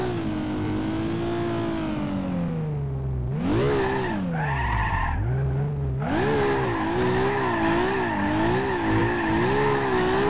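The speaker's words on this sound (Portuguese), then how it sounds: "Mais uma curva no drift." A Toyota Supra drifts in BeamNG.Drive, its engine revving hard and tires squealing continuously through the slide, with a brief lift in throttle midway before the loud, sustained howl resumes.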